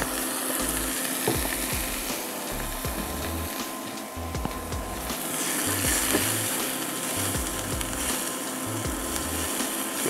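Onions fry in olive oil in a pan while shrimp scampi is being made, giving a steady close sizzle and crackle that continues throughout with no voices.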